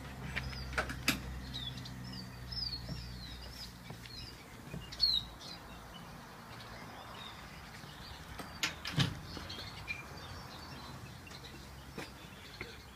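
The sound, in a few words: pastel cage birds in aviary flights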